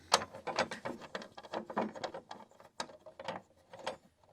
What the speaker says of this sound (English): There's a little nut in here, and it's black. And you undo that.